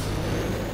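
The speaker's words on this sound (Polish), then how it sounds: "ja używam tutaj nitra" A nitro boost fires in the racing game Need for Speed World: a brief, steady, hissing rush of engine and air noise that holds at an even moderate level throughout, with no talk.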